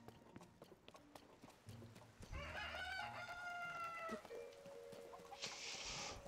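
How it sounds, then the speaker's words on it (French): Rooster crowing at night in the video game Zelda Tears of the Kingdom, a single long crow rising over quiet game ambience, followed by a sustained tone and a brief bright chime near the end. "Un coq qui chante à 1h10 du matin"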